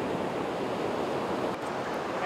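Big ocean surf breaking on the beach at Mtunzini, a steady loud wash of crashing waves with wind noise, continuous throughout with no talk.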